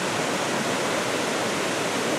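Yellow Creek Falls in Graham, North Carolina, a waterfall pouring heavily over rocks, producing a steady, loud, full roar of rushing water with no pauses.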